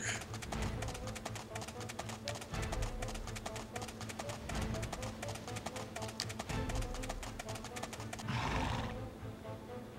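A horse in the video game Horsez whinnies and neighs over steady clip-clopping hooves, a continuous loud stretch of galloping with the whinny rising near the end.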